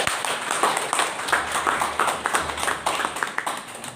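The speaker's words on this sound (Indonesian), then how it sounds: "Mari dalam sukacita kita berikan tepuk tangan." Clapping at a church installation ceremony for a congregation's council in Cikarang Baru: scattered, fairly quiet hand claps from a small gathering, uneven and brief.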